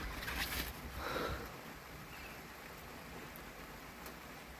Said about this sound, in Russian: Дождик начал такой нормальный.